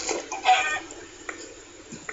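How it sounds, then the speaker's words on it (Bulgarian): A chicken clucks in a survival video game, with a short run of clucks near the start and single faint clucks later, close and fairly quiet. "Кокошка!"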